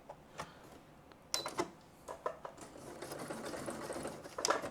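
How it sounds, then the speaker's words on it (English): A sewing machine runs close by, back stitching the end of a fabric seam for an Easter keepsake, with a fast rattling needle that stops and starts in short bursts and then a longer steady run. "Back stitch, we don't want it coming undone. Up to the end and back stitch again."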